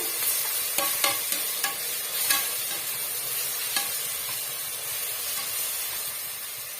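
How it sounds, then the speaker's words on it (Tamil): Ginger-garlic paste sautéed and stirred in a pan for chicken biryani, a steady close sizzle with several sharp spatula scrapes and clinks early on, then continuous frying hiss with no talking. "இந்த இஞ்சி பூண்டு வாசனை போக வரைக்கும் நல்லா வந்து இது போல் வதக்கி விட்டுக்குங்க"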